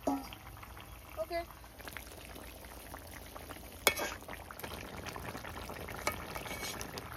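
A freshwater parshe fish curry gravy bubbles and simmers in a pan with a low, steady frothy hiss, a few faint clinks and a brief spoken word at the start.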